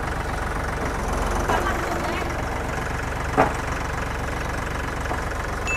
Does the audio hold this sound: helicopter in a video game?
no